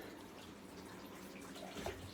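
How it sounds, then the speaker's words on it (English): Water rushes down a drain into a $2 bucket fitted with a pre-drain insert, a soft continuous trickling flow with a slight gurgle near the end, faint and heard alone. "You can hear the water rushing down inside"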